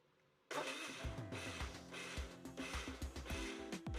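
A kitchen mixer grinder whirs loudly as it churns cream with ice water into butter, starting abruptly and running steadily with a pulsing, chugging rhythm close by.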